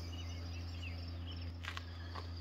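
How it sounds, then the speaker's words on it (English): A diesel motor running an irrigation pump drones low and steady in the distance, with insects chirping faintly over it in an otherwise quiet outdoor setting. "diesel motor running a pump, an irrigation pump,"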